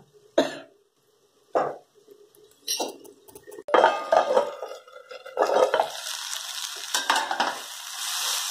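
Okra and onion bhaji cooking in a pan on a low flame after tamarind water is added: a few short knocks and scrapes at first, then a steady, fairly close sizzle with stirring clatter running to the end.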